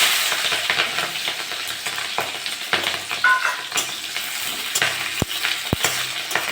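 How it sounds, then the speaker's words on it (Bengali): Chopped onion and green chili sizzle in hot oil with cumin seeds in a pan, a loud continuous crackle close by, broken by spatula scrapes and a couple of knocks. "পেঁয়াজ আর লঙ্কাটা একটু ভাজা করে নেব।"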